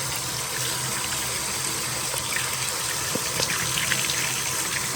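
Water runs steadily from a tap into a bath, a continuous close gushing hiss that stays even throughout without voices.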